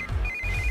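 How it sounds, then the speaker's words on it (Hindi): A phone ringtone chimes in a steady repeating electronic tone, close and clear, over a low rumbling background. "इस वक्त दीदी का फोन।"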